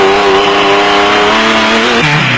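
Off-road race vehicles, including a thundering Isuzu and a Raceco, roar loudly and continuously close by, engines droning with a shift in pitch near the end as they race through the early stages of the Settlers 400 in South Africa.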